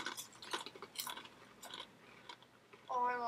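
Cheddar and onion crisps crunched close to the mouth in a crisp tasting challenge, a quick run of crisp, crackly bites and chewing, ending as a voice starts to speak.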